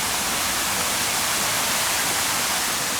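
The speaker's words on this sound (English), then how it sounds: "the sound of that water is the waterfall here" A waterfall at a Maldives resort produces a loud, continuous rush of splashing water, steady throughout with no other sounds.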